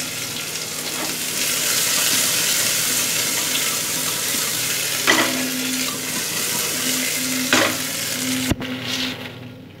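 Potatoes fry in a pan for Kolkata-style mutton biryani, a steady close sizzle with occasional scrapes of stirring and a sharp clack near the end, no voices.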